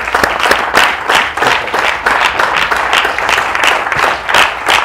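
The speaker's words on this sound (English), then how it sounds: "Give me a head clap." An audience claps steadily throughout, a dense, continuous patter of many hands close by, with no voices over it.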